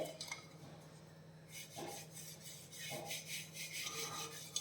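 Coconut oil being rubbed around a cooking pot by hand, giving soft, close rasping and scraping strokes in a few repeated passes, with faint metallic touches and no talk.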